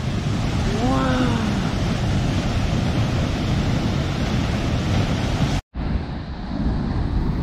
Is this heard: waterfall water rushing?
yes